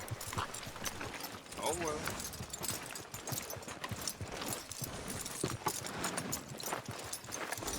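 Horse hooves clip-clopping in the video game Red Dead Redemption 2, a steady rapid rhythm of hoofbeats close by, continuing under a man's brief spoken remark.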